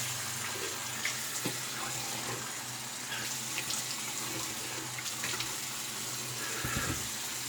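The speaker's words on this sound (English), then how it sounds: "So let's do cold water rinse." Cold tap water runs steadily into a sink for a rinse after shaving, a continuous splashing rush with a few faint clinks and knocks, close and moderately loud.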